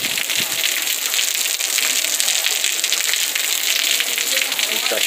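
Heavy rain pours down steadily in the town of Joaquim Gomes, near a plaza, making a dense, even hiss that never lets up, with faint voices in the background.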